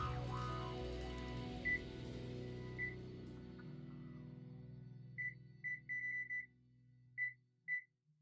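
A small electronic kitchen timer beeps in short, high pips, first singly, then in quick clusters, over a fading low hum, fairly faint.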